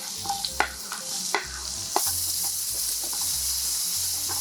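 Onion and green onion stir-fry in sesame oil in a hot pan, a steady close sizzle with a few scraping stirs and utensil taps near the start.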